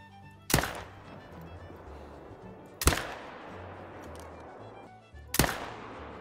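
Three loud rifle shots from the hunting game The Hunter: Call of the Wild, fired at long range, each a sharp crack with a ringing tail, spaced about two and a half seconds apart over a low ambient outdoor bed.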